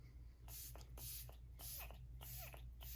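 Makeup setting spray misted onto a face: five or six short, close, hissing pump bursts in an even rhythm, fairly quiet over a low background hum.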